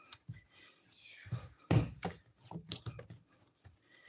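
Doughnut dough being mixed and kneaded by hand in a home kitchen, with soft irregular slaps, thumps and squishes, one louder thud partway through, and quiet bumps between.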